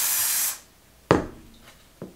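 Spray 90 adhesive hissing out of a can in one short, loud burst, followed by two sharp knocks of the can being handled.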